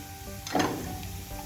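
Browned onions with red chili powder, salt and black pepper sizzle in a pan, a soft steady frying hiss with one brief louder stirring scrape in the middle.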